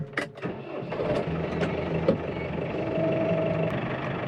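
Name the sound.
tractor engine running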